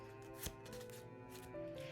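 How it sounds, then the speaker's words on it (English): A quiet riffle of playing cards being shuffled, with a soft flutter and a brief snap, faint over a low background hum. "let's shuffle the rest of the cards together"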